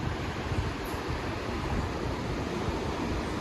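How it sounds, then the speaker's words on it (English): Lake Michigan waves wash steadily against the shore with a continuous loud rush of surf, mixed with heavy wind buffeting the microphone. "You can see there's a little bit bigger waves today."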